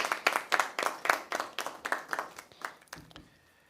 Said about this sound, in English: I think we should all give them, a round of applause for their work.